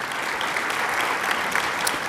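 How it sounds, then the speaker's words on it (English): Audience applause fills a speaking event, a dense, even wash of clapping that stays steady for about two seconds with no voice on top. "Y'all give Eric Gukan a round of applause."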